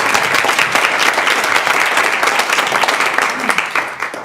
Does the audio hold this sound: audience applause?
yes